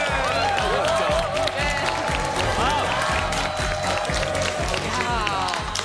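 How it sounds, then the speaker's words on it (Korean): Studio audience applause on a Korean TV health show as a guest singer arrives, sustained clapping under upbeat music and overlapping voices. "박수가"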